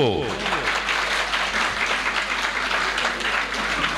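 Dense applause fills a mushaira poetry recital from 2020, steady and close throughout. A voice is briefly audible under the clapping at the start.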